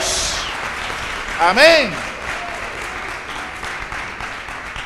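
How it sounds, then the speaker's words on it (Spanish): A church congregation applauds in a steady, dense wash of clapping that runs the whole time, with a brief spoken voice rising over it near the middle. "Otro aplauso al Rey. Bien fuerte."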